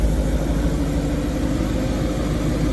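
A 4,200cc V8 gasoline mid-engine supercar idles with a steady, deep rumble, close and loud, holding an even tone throughout with no revving.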